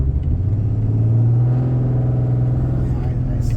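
A 6.7 Cummins diesel pickup engine that needs new fuel injectors and is blowing black smoke, with a loud, steady low rumble that surges and eases as it is revved up and let back down.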